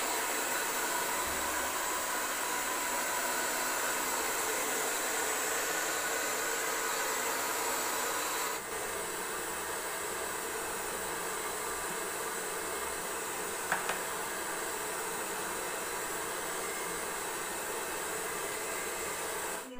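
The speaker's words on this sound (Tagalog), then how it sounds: "binablow na yung hair." A hair dryer blows steadily and close while drying freshly colored hair, giving a continuous airy roar with a brief shift partway through, alone with no talk.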